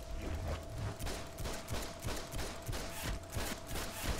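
Rapid, steady gunfire in DC Universe Online, with dense repeated shots pulsing evenly through the whole stretch over a constant tonal drone and busy game ambience.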